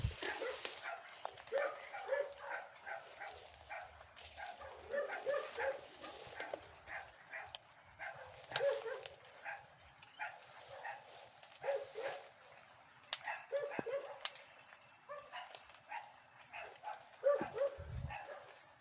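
Distant dogs at a house bark repeatedly at night in scattered bursts over a long stretch, with faint outdoor ambience and occasional sharp knocks.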